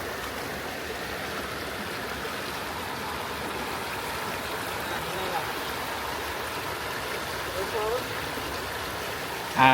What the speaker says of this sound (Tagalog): First time ni John tumawid sa ilog